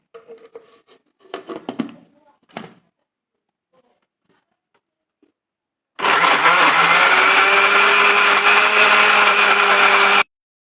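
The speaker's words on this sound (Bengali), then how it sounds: "এবার ভালো করে আমি ব্লেন্ড করে নেব।" A blender whirs loudly and steadily for about four seconds, churning a high protein chocolate mousse with honey, after a few soft clattering handling sounds.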